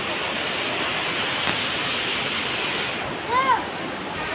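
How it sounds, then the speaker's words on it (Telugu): Bhairavakona waterfall in Prakasam district pours steadily in a dense, broadband roar that fills the whole scene, with a brief faint chirp near the end. "చూడండి ఫ్రెండ్స్ వాటర్ ఫాల్స్ ఎట్టా పారుతుండాయో చూడండి"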